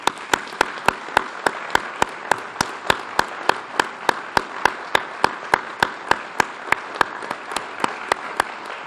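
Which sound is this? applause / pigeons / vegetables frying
applause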